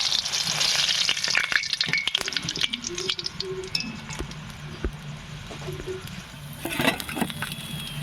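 Potato-stuffed khasta kachori fry in hot oil, a continuous close sizzle with frequent clinks and scrapes of a utensil stirring and turning them, busier at the start and again near the end.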